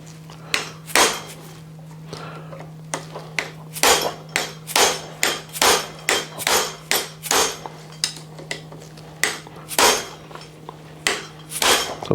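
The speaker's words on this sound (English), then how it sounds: "I'm just going to hit the back of the spring on this one, and it should hope to dislodge it." Repeated sharp metal hammer blows strike the back of a spring on a three-wheeled vehicle's brake assembly, arriving in irregular bursts of close, loud clangs with short pauses between, over a low steady hum.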